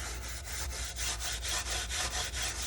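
Green abrasive pad rubbing down a dyed flamed maple guitar top on an ES-335 kit body, a steady back-and-forth scrubbing with about a dozen even strokes, close and fairly loud, no talk.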